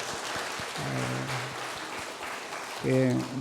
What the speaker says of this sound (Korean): 우리 하나님 앞에 영광의 박수 한번 드립시다.